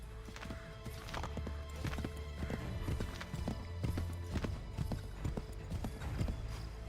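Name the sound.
horse galloping, from video game Assassin's Creed 3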